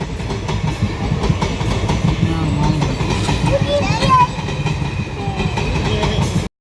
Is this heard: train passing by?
yes